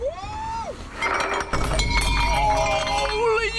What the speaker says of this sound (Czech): skoro všechny talíře i skleničky jsou rozbitý